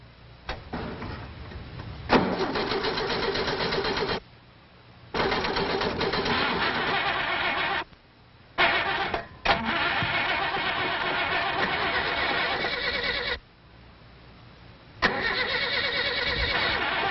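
A car engine cranks and starts several times, loud and near, with bursts of revving separated by short silences; no talking.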